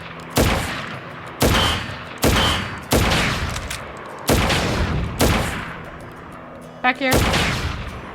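Repeated bursts of gunfire in the Final Fantasy VII Crisis Core video game, roughly six or seven loud volleys spaced about a second apart, each with a sharp attack and decaying tail, with a player briefly talking between shots.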